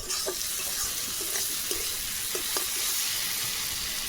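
Water poured into frying fish curry masala in a pan: a steady rushing hiss of pouring and sizzling with scattered small pops and bubbling, moderately quiet and continuous, with no talk.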